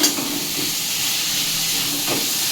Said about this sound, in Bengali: এই যে মশলা দিয়ে আলু পেঁপেটা ভালো করে কষিয়ে নিলাম